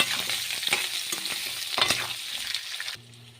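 Olives sizzle and crackle in hot oil for an Assamese olive pickle, with steady bright frying hiss broken by stirring scrapes, close and fairly loud before the sizzle drops sharply near the end.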